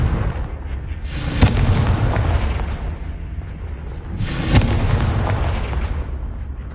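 Confringo spell blasts in the Hogwarts Legacy video game: two loud, booming bursts about three seconds apart, each with a sharp crack followed by a rumbling tail, no talk.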